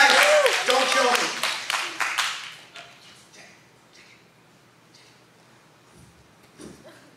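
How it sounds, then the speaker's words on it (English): An audience at a Club Central stand-up comedy show applauds a comedian coming on stage. Brisk, close clapping sounds under a host's voice at first, then thins out and fades to a few scattered claps. "Give him a round of applause!"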